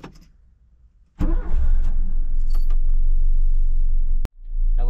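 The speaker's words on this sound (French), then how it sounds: "Allez, on va quand même la démarrer." A Renault Super 5 starts after a quiet pause, its engine catching abruptly and settling into a loud, steady idle that cuts off suddenly before restarting near the end.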